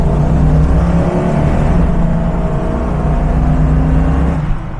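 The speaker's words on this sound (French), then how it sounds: "On va faire un petit kickdown quand même" A 1970 Dodge Challenger R/T V8, engine warm, roars under kickdown acceleration with a steady, loud low rumble and whir that holds throughout and eases slightly at the end.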